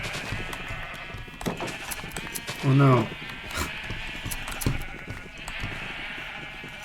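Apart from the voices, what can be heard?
black sheep bleating in Minecraft video game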